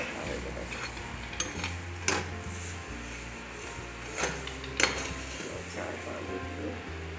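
Ingredients are stirred and roasted in a pan in a home kitchen before going into boiling milk, with scraping metal clinks and a few sharper knocks over a steady low background hum.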